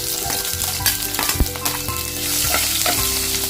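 Cut green chillies fry in hot oil with mustard seeds, a dense close sizzle with scattered crackles and a few scraping stirs, no talking.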